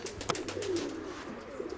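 Pigeons in a pigeon loft give a soft, brief coo, heard close and alone over faint background noise.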